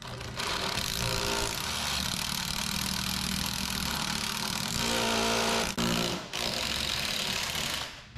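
Power drill boring a hole through plastic trim and the metal roof of a 2021 Ford Bronco, a loud continuous whirring grind with a brief pause near the end before it resumes.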